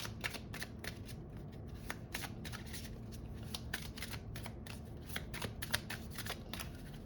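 Tarot cards are shuffled by hand in a steady run of quick riffling slaps and soft flutters, close and continuous, with no talking.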